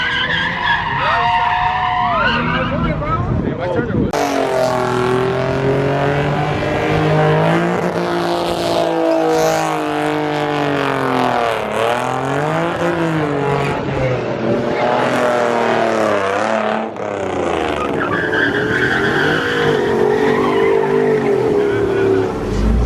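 A Nissan GT-R with a flamethrower exhaust revs hard in a rev battle as its underside catches fire. The engine screams in loud, repeated rising and falling sweeps, with harsh squealing, bangs and crowd noise mixed in.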